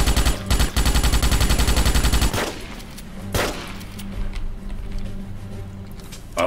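Rapid automatic Morita rifle fire from the Starship Troopers game (2005) rattles loudly in a dense burst for a couple of seconds, then a single sharp shot rings out amid quieter ticking and mechanical clatter.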